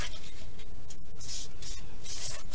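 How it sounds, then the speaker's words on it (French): Paper card being folded and creased by hand, soft crinkling rubs with a couple of sharper crisp swipes, close and fairly quiet. "Et on va plier une deuxième fois"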